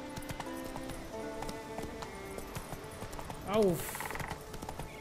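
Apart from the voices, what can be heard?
horse galloping hooves in video game The Witcher 3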